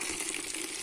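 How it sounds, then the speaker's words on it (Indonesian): Warm water pours in a steady, hissing gush into a container for goats, brief and fairly quiet. "kemudian saya tuangkan air hangat ini"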